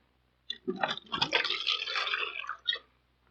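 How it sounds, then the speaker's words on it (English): A drink poured into a cup, a short liquid splash and trickle lasting about two seconds, close and fairly quiet, with a brief drip at the end. "Pour it up in a cup."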